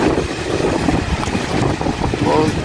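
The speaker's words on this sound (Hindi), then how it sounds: "तेज़ हवा चल रही है" Strong, gusty wind buffets the microphone in a constant rumble while a person talks underneath, on Istanbul's Taksim Square and Istiklal Street.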